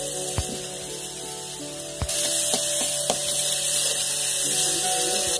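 Hilsa fish roe cooking for a mulain bhuna is stirred in a pan until lightly reddish. Steady frying hiss runs throughout, with sharp spatula knocks and scrapes, growing louder past the two-second mark.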